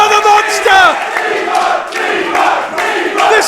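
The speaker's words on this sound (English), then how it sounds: "This crowd has gone ballistic!" A wrestling crowd at a live show goes wild, loud massed yelling and cheering that surges in waves, with individual shouts rising out of the roar.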